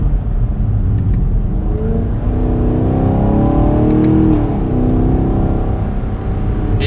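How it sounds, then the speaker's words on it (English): A 2023 Chevrolet Camaro 2SS 1LE accelerating gently from fourth gear, its engine rumbling loud and steady from inside the cabin as the low drone rises slightly in pitch and then eases off. "Just a small acceleration from fourth."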